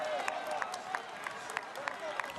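Crowd noise at an elite men's cyclo-cross World Cup race in Namur, Belgium: a steady roar of spectators with scattered claps and shouts, broken by repeated sharp whistle-like bursts, with continuous commentary over it.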